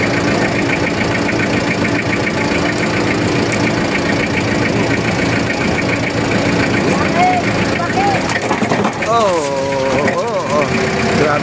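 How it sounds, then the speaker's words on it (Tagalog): A forklift engine runs steadily, a loud continuous rumble of a heavy idling motor heard from aboard as it rolls along the Esplanade by the Pasig River, with people talking over it throughout. "Sinakyan po natin forklift guys,"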